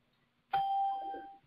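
A single clear electronic chime rings out as a participant joins an online call, a sustained bell-like tone that fades after about a second in otherwise quiet surroundings.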